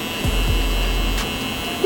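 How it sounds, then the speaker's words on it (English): A barber's sharper electric hair trimmer buzzes steadily with a low, continuous hum throughout a haircut, with no talking. "Now I'm gonna go in with my sharper trimmer."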